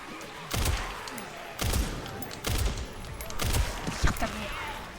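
Bursts of gunfire from a horror-themed first-person video game, roughly five heavy reports spaced about a second apart over a dense game soundscape, with voices talking in the background.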